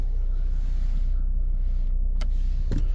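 A 2023 Ford Explorer Timberline's panoramic moonroof motors open at the press of a button, a steady low electric hum inside the cabin with a couple of faint clicks near the end.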